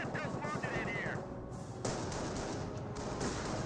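Sustained rapid MG42 machine gun fire in Company of Heroes, a dense rattling burst running almost continuously at steady loudness, with other battle noise mixed in.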